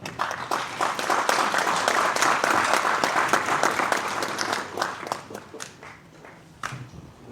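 A room full of people at a La Paz press workers' federation event applauds to welcome a speaker, dense clapping that swells early and gradually thins out toward the end.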